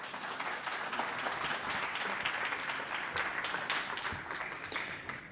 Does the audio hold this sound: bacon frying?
no